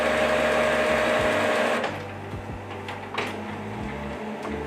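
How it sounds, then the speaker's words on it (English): A Canon MAXIFY GX series inkjet printer prints a print head alignment page, with a steady mechanical whir that drops partway through, then clicks and carriage movements nearby. "Now I leave the printer for 10 minutes until the print head alignment"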